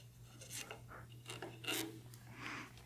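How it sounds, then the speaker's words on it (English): A skew chisel scrapes and trims excess tape on a woodturning ring blank, a few faint, uneven rasping strokes over a low steady hum. "you can get your skew and just trim some of this off"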